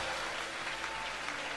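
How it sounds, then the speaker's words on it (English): A church congregation at a ladies' ministry convention claps hands together in a dense, steady wash of applause, moderately distant and even in loudness, with no voices standing out. "Clap your hands for victory,"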